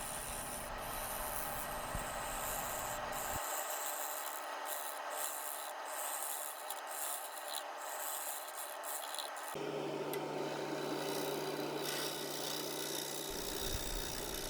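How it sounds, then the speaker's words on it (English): A bowl gouge cuts into a spinning log on a wood lathe, making a steady, continuous rasping scrape that shifts in tone partway through and then again near the end. "Variations on how I'm using the bowl gouge. I use push cuts and pull cuts and shear scraping"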